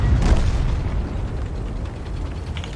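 An explosive shell fired in World of Tanks, a loud close boom at the start followed by a rumbling, fading tail of low battle noise.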